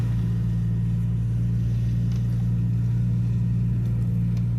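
An old vehicle creeps slowly along a muddy, slightly snowy back-country track, its engine a steady low rumble with a constant drone and no revving, close and continuous throughout.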